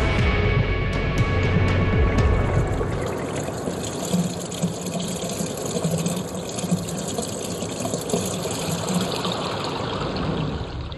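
Water flows steadily across a scale model of the Air Canada Centre in a test tank, making a continuous loud rushing, trickling wash, with a few faint clicks at the start.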